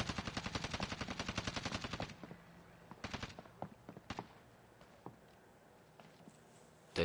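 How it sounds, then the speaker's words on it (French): Video game gunfire opens with a fast, evenly spaced automatic burst lasting about two seconds, then gives way to scattered single pistol-like shots spaced irregularly and somewhat softer, ending with one sharp loud crack. "au pistolet, il m'allume"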